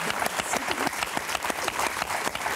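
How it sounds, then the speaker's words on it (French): A TV game-show studio audience applauds four contestants on Motus, with brisk, crowded clapping that fills the room at full strength and never lets up. "On va applaudir nos 4 candidates"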